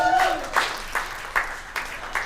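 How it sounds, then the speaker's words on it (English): An audience applauds at a love-coaching talk event, a short burst of clapping with several distinct claps rising over a low crowd murmur. "Give her a round of applause"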